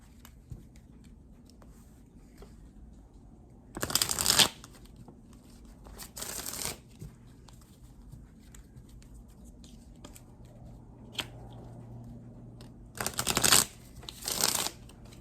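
Tarot cards being shuffled in a few quick bursts, two close together early on and two more near the end, with quiet pauses in between and no talking.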